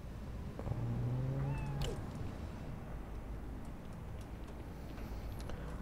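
A cat meows in a game setting, the call rising over a steady background hum of game music and ambience, fairly faint and brief.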